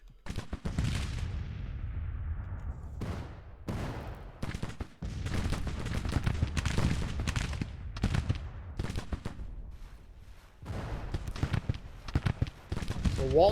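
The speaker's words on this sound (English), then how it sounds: "heavy firing by the 3rd Brigade of the Union Army" Heavy musket volleys and artillery fire from a Union brigade in the Civil War strategy game Grand Tactician roll in repeated crackling bursts and booms, with a voice talking over them.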